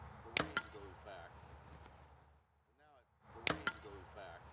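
A carbon arrow shaft is shot twice during a torture test, each hit giving a sharp, loud crack with a short splintering tail, the two impacts about three seconds apart and separated by near silence.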